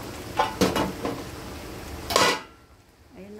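A metal cooking pot lid lifted off a pot of ginataang kalabasa at sitaw with shrimp, several close clanks and scrapes ending in one louder clatter, then quiet.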